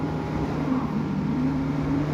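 Yamaha MT-09 motorcycle cruising at a steady speed, a constant engine drone with low humming pitch under steady wind rush, recorded from the rider's position.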